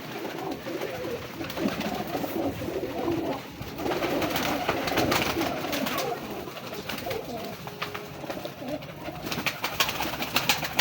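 Teddy breeder pigeons in a loft, cooing and shuffling steadily throughout, with repeated soft calls and wing or foot rustles amid continuous low ambient noise.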